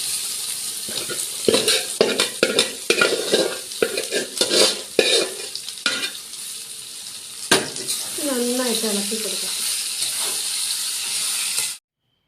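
Koorka (Chinese potato) sautéed in masala in a pan, loud irregular scraping stir strokes over a continuous hiss and sizzle, with a brief voice near the end before the sound cuts off abruptly.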